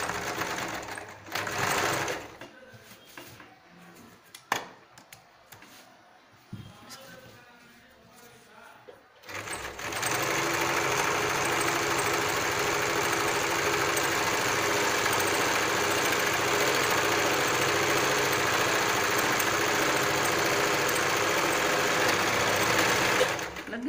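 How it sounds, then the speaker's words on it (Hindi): Sewing machine stitching a jute carry bag, running steadily and loudly for about fourteen seconds after a quieter stretch of brief start-and-stop whirring and faint handling noise. "इसमें भी ऐसे ही सिलाई लगाएंगे। पहले सिर्फ जूट पे लगाएंगे"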